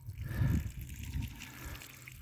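Water pushed under pressure through a garden hose into a shared well's water meter line, a soft low rushing flow with a brief louder surge near the start, steady and close.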